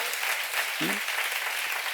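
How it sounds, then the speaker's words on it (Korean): A church congregation claps during a seminar sermon, a continuous broad wash of applause filling the room, with a brief voice cutting in near the middle. "박수야"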